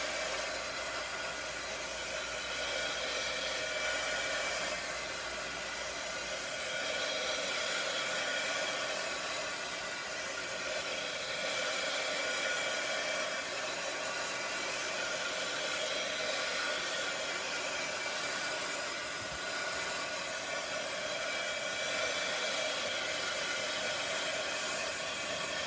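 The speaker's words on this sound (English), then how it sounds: "I will come in with my heat tool and I will" Heat tool blowing hot air over a handmade craft project to dry it, a steady, even, close whoosh of airflow holding unbroken for the whole stretch with no voices.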